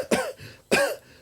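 Two separate coughs from one person, close and fairly loud, with a short pause between them and no speech around them.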